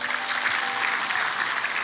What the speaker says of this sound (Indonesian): Berikan tepuk tangan pada Tuhan.